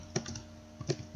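A handful of light keystrokes on a computer keyboard while text is typed into a LibreOffice document, soft scattered clicks close by in a quiet room.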